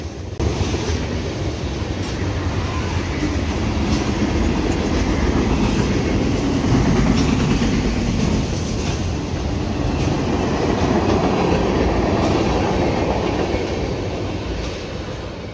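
A CSX freight train rumbles past steadily for the whole stretch in daylight, a dense continuous roar of wheels and rattling cars, close and loud.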